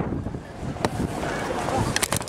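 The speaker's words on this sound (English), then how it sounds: "It's a windy day." Steady wind on a windy outdoor day roars broadly into the microphone throughout, loud and continuous with a few brief knocks near the end.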